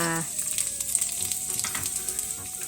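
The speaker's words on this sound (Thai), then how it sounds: "ตั้งกระทะใส่น้ำมันนะคะ" Oil frying in a pan on the stove while a keto stew is prepared, giving a steady, close crackling sizzle throughout with no talking.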